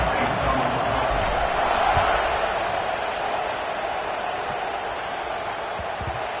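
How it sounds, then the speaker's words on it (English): Stadium crowd noise in a football video game, a steady dense roar and murmur of spectators filling the space without pause, loud and continuous throughout. "this crowd is buzzing after that last score."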